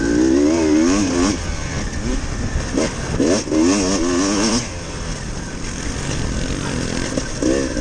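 A Beta 300RR two-stroke enduro motorcycle is ridden around a dirt track, with its engine loud and close, revving up and down repeatedly in rising and falling bursts.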